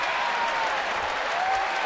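A large baseball crowd at a Cardinals–Giants game in San Francisco claps and cheers steadily, a broad, even wash of applause with no single voice standing out.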